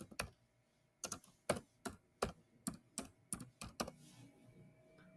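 Computer keyboard typing a short name into a field, about a dozen crisp separate keystrokes at a steady moderate pace, close and clear against a quiet background.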